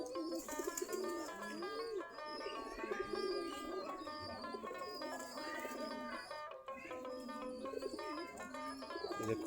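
Desi giribaz pigeons coo steadily at their coop after feeding, a dense overlapping chorus of soft throaty calls running throughout with bright chirps mixed in, close and continuous.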